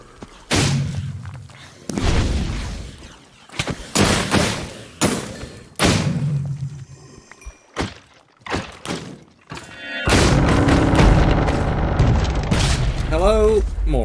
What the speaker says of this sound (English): Hello, more explosion.